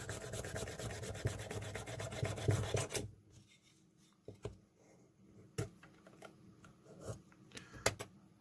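A rotary tool fitted with a smaller collet and a small drill bit whirs and rasps loudly for about three seconds, then stops, leaving scattered light clicks and handling noises nearby.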